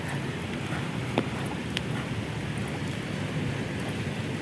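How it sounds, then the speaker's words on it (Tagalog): Water gushes in the flooded Marikina river during monsoon high water, a continuous, fairly loud broadband rush with steady turbulence and faint wind, heard without talk. "Tingnan natin dito yung bulwak ng tubig."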